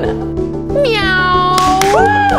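Person in a cat suit in a film trailer imitating a cat with a drawn-out, pitch-bending meow over a loud background music score.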